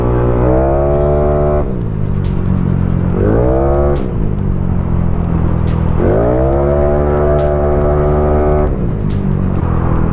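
A Mio 160cc motorcycle with a big valve head is revved hard to about 10,000 RPM in repeated loud bursts. Each rev climbs, holds a buzzing scream, then drops back, close by and without talk.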